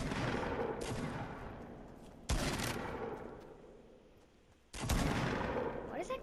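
A pump shotgun fires in Fortnite, three loud booming blasts spaced a couple of seconds apart, each decaying into a roaring game ambience that fades between shots.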